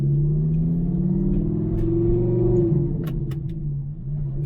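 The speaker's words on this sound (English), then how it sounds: "The car is stock except for the exhaust, which is an AP, so it's basically just a muffler delete with a lot of noise" An Audi R8 V10 with a muffler-delete exhaust rumbles loudly and close, its deep tone rising slightly, then dropping as the throttle lifts, with a few sharp pops before settling into a steady idle-like drone.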